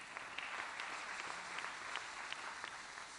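An audience at the opening ceremony of MASA 2016 in Côte d'Ivoire claps steadily and fairly softly for a few seconds, a dense patter of many hands with no cheering.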